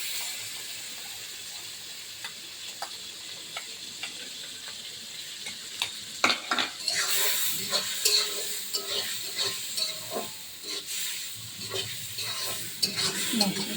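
Green chili paste sizzles in a pan, a soft frying hiss that builds midway into louder crackling with scraping stir strokes and clinks.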